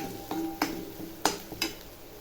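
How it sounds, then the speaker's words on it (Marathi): Red chilli masala being stirred and sautéed in a pan for a homestyle egg curry: a few sharp spoon taps and scrapes against the pan over a soft background sizzle, with no talking. "आता ह्याला छान असं परतून घेते"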